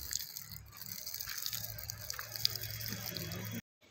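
Water drains from squeezed soaked lentils, a soft continuous trickle and patter at close range, fairly faint, that cuts off abruptly just before the end.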